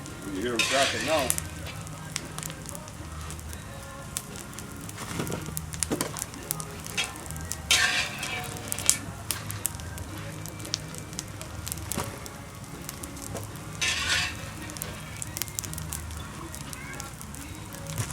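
Pork cracklins fry in hot oil with a steady sizzle and scattered sharp pops and crackles, close and fairly loud throughout, with cooking noise bursting up at intervals and no talk over it.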